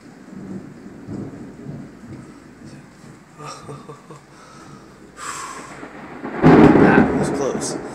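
Thunder rolls and cracks during a lightning storm at the New Orleans Fairgrounds, a low rumble building to a loud, close crash near the end, with rain in the background.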